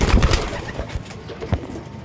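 Pigeons coo in low, soft repeated calls close by, a few brief throaty murmurs over about two seconds.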